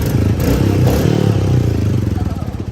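A Royal Enfield Bullet motorcycle carrying four riders, its engine thumping steadily and loud close by as it pulls along, with a rattling clatter throughout.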